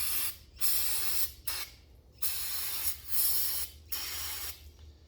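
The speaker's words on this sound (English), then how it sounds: "now that I sprayed the outside" Cleaner is sprayed onto a hydraulic ram from a Bobcat 743 in several bursts of hissing, close and moderately loud, separated by brief pauses.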